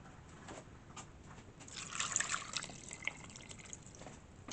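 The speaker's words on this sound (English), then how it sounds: "We're going to fill this with water." Tap water runs into a pot of apple peelings and cores, a soft steady splashing that swells in the middle of the clip and then trickles on, close by with no talking.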